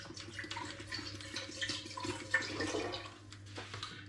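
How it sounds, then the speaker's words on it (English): Spring water, about four litres, is poured into a cooking pan for apple, hop and sumac wine, a steady close splashing stream running throughout with no voices. "I'm going to put into this pan about 4 litres of spring water"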